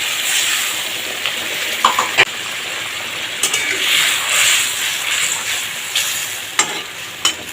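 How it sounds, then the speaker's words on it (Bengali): Eggplant and hilsa curry frying in a pan, a close steady sizzle with scattered scraping and stirring clicks and brief bursts of hissing. "এর উপরে আমি মিক্সির বাটি ধোয়া জলটা দিয়ে দেবো"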